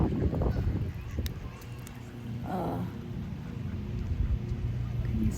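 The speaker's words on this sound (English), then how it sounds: "I'm sure y'all hear the ducks and the geese, do you?" Scattered geese honks ring out by a creek over steady outdoor background noise, with one clearer call midway and fainter calls around it.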